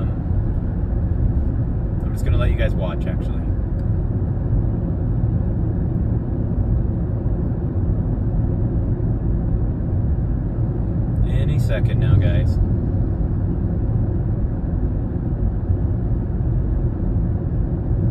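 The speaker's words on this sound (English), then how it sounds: "the gas engine came on, here I am accelerating" A steady low engine rumble from inside a moving Toyota Prius Prime as its gas engine kicks on while accelerating, holding an even level throughout, with two brief higher-pitched bursts partway through.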